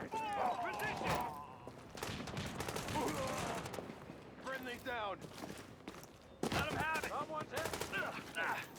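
Bursts of video game gunfire crackle through a fight, with sharp repeated shots clustered in volleys amid footsteps, while people talk over much of the action.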